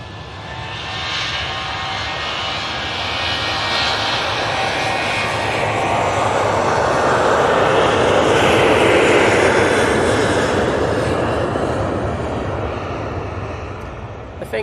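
A jet airliner departs from Manchester Airport, its engine roar swelling steadily to a loud peak midway before slowly fading, with some talk beneath it.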